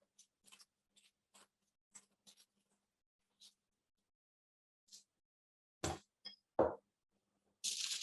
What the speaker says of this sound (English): let me line this bottom with aluminium foil as the first step